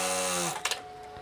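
Sewing machine stitching a pillow cover, running in a steady whirring burst that stops about halfway through, followed by a few faint clicks of the fabric being handled.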